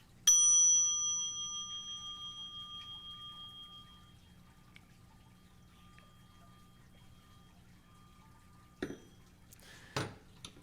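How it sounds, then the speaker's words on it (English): A mindfulness bell rings once during a Zen dharma talk in the Vietnamese tradition of Thich Nhat Hanh: a clear metallic strike whose pure ringing tone slowly fades over several seconds into quiet, followed near the end by a couple of brief soft knocks. "He has a mindfulness bell. So every once in a while, in a talk, everything stops."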